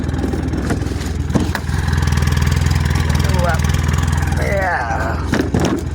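A small gasoline engine idles roughly on a cold morning, giving a steady, loud low throb that runs the whole time, with a voice heard over it.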